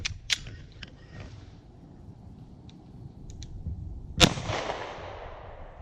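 A 5.7 round fired at a metal target, one sharp, loud crack late in the clip after quieter clicks and handling noises, with a brief ringing tail.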